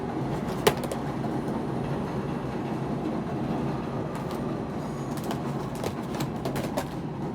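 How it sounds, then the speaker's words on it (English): A train rolls past close by with a continuous low rumble and scattered metallic clicks and squeals, steady throughout with no voices. "Let the train go by."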